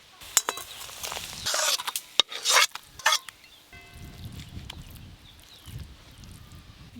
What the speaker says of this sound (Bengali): এইভাবে নাড়তে নাড়তে পটলের যে জলটা আছে একটু শুকিয়ে যাবে